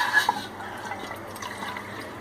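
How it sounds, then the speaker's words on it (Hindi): Water poured from a cup into an empty cooking pot for Kashmiri chai, a faint steady trickle and splash over about two seconds in a quiet kitchen. "अब मैं इसके अंदर 1 कप पानी का शामिल कर दूंगी।"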